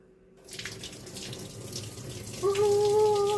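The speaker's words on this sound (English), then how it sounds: "I'm just going to get some water and see if I can shoot it up to the top." Tap water gushes steadily while filling a 50-gallon fish tank for a pump test, close and continuous, with a rising ringing tone joining in near the end as the vessel fills.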